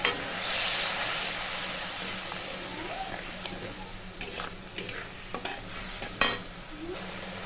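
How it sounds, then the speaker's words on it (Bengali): A cashew and sesame paste masala is stir-fried in a pan for vegetarian aloo dum, a low sizzle under scraping, clattering spatula strokes and a sharp knock near the end, close, with no speech. "এটাকে ভালো করে কষে নেব।"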